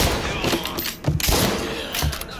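Bursts of gunfire in the video game Mafia: Definitive Edition, with sharp thuds and rapid shots, mixed with busy background noise and brief voices.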